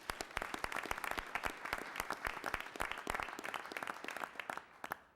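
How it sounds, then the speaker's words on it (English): At a city council meeting, a small room of people applauds an art award winner with brisk, dense clapping that holds steady and then fades out at the end. "Give her a round of applause"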